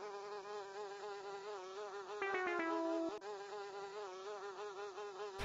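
Bee buzzing from a mobile drawing puzzle game, a steady electronic drone with wavering harmonics running throughout, with a brief cluster of brighter clicks and tones partway through.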